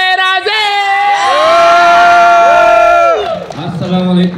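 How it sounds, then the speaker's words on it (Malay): A crowd at a celebrity appearance cheers, screams and whoops loudly for the actor for several seconds, with high voices shouting together before trailing off into chatter. "Jeritlah kuat-kuat untuk Dato' Aaron Aziz."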